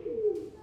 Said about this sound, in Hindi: और ये कबूतरों की आवाज।